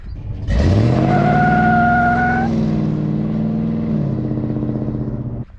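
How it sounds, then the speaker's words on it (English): Tires of a V8 pickup truck squeal loudly for several seconds under a revving engine, the pitch rising then holding steady before cutting off. "these things can squeal tires"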